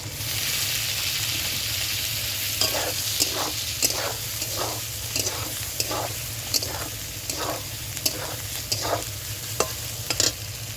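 Fried pointed gourd is stirred in a pan for a vegetarian doi potol, with a spatula scraping in a rhythmic series of strokes over a continuous low sizzle, close and fairly quiet.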